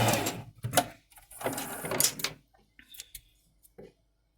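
A sewing machine backstitches at the end of a seam, giving several short bursts of stitching that run close and loud. Quieter clicks and handling noises follow.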